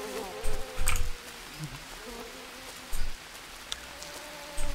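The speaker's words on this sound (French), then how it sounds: "J'entends des guêpes." Wasps buzz faintly in the Green Hell jungle, mixed with patter like rain and several short, louder thumps scattered through.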